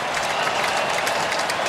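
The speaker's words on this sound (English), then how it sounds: "This capacity crowd loving it" A capacity stadium crowd at a college football game cheers and applauds in a dense, continuous roar, with no distinct voices standing out.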